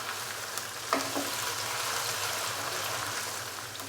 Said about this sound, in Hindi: अदरक लहसुन और सब्ज़ मिर्च के पेस्ट के साथ चिकन को अच्छे से मज़ीद हमने फ्राई कर लिया 2 से 3 मिनट